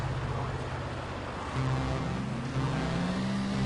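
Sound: car engine accelerating at drag race start, video game

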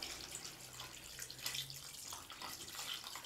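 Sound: cooking water poured into biryani pot

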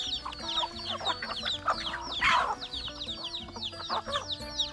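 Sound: chickens and ducks clucking while eating

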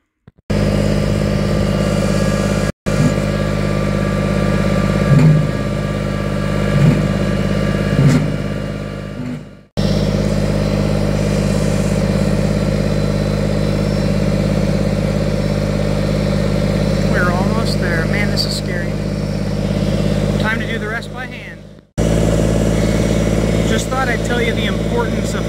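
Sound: tractor engine running while pushing

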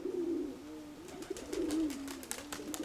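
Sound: pigeon cooing

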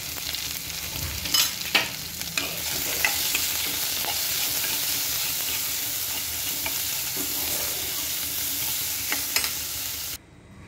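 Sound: potato tomato curry sautéing in a pan with spices

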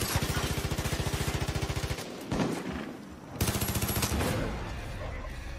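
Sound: gunfire from the video game Far Cry 5

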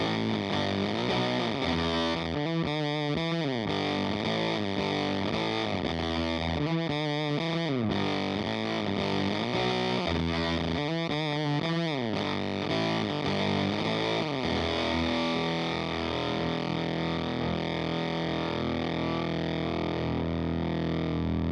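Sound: Hot Knife pedal glitchy distortion with gain maxed

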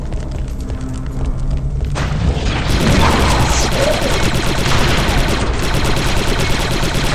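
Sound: gunfire from the Star Wars Republic Commando video game

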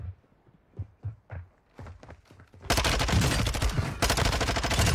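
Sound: gunfire in the video game Warzone 2.0

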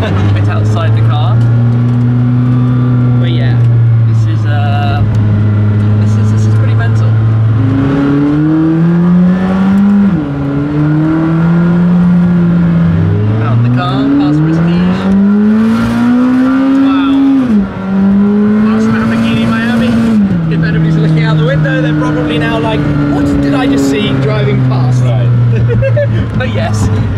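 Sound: race car driving on wet track

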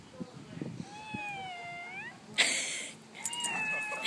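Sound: cat meowing

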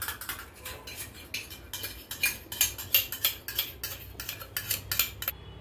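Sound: mixing sugar in a bowl with a spoon

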